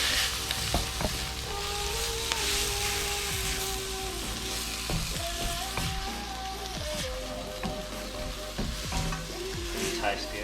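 Coriander folded gently through melted butter in a frying pan, with a constant loud sizzle and repeated soft scraping and stirring of the utensil through the pan, no talk.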